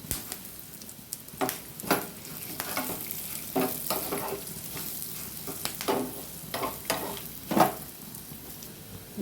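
Dried red chillies and curry leaves roasting in a pan for a Brahmin-style bitter gourd sambar, with a soft steady sizzle under repeated scraping stir strokes spaced about a second apart, close and moderately quiet.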